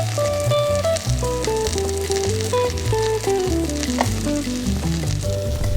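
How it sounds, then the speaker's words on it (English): Steady crackling sizzle of a tortilla frying in a hot pan, with a melodic tune playing prominently over it. "Oh, listen to that sizzle."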